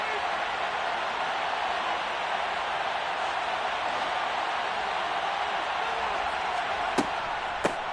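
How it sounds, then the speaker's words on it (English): A football stadium crowd roars steadily at a big third down in a Bears game, a dense, loud and unbroken wash of cheering with a couple of sharp claps or thumps near the end. "the crowd getting into it as we come up on a big 3rd down"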